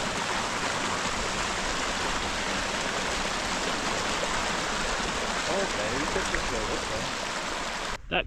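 A creek runs across a hiking trail on Colorado's Mt Bierstadt, a 14er. Its steady broadband rush is loud and continuous, cutting off abruptly near the end.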